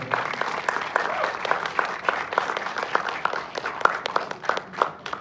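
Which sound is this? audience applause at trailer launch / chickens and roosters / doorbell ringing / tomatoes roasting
audience applause at trailer launch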